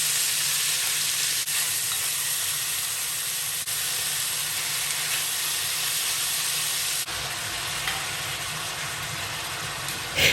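Pork frying in about a tablespoon of melted coconut oil for a paprika and coconut jollof rice, a loud steady broadband sizzle with hiss and steam filling the whole stretch, briefly dipping once near the end, with no voices.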